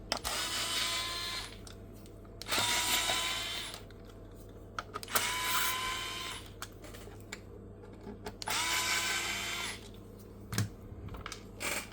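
A screwdriver works loose screws while a Fender Riff amplifier is taken apart, making bursts of dry scraping and ratcheting clicks in several separate spells, with quiet pauses and a steady low hum underneath.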